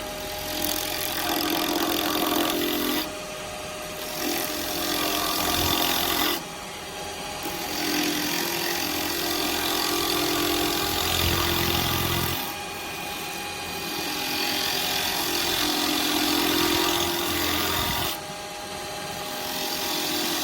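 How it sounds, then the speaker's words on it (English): Wood spinning on a lathe while being roughed down into a spinning top with a round carbide chisel, a continuous rasping cut near the mic that pauses briefly several times as the tool lifts off, no talking. "So I'm going to rough this down with the round chisel."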